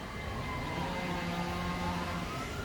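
Sirens wail steadily through a windstorm, with a chainsaw droning faintly in the background; the sound is continuous and fairly distant, with no talk.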